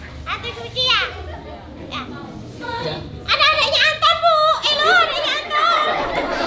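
Children play and chatter nearby, their overlapping high voices rising and falling with excited calls and brief laughter, loud and continuous throughout.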